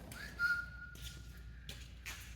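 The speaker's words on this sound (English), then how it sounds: "steam whistle on it." A thin, steady steam whistle on a 1914 Ford Model T runabout holds one pitch for under a second amid faint outdoor noise, followed by a few soft rushes of air.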